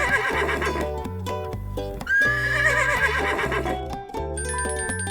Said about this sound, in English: A horse says, neigh, neigh.